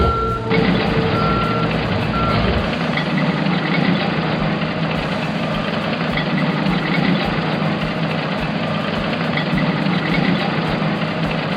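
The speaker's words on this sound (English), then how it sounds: "When you're done, tap the red button in the upper right to drive the compactor truck away." A garbage compactor truck in a video game pulls away with loud, steady reversing beeps repeating over a low, rumbling heavy diesel engine, with no talking.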